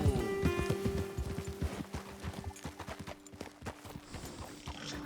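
Horse hooves clip-clop at a quick riding pace in the Red Dead Redemption 2 video game, a dense, close rhythm of beats that loosens and slows toward the end, with no one talking.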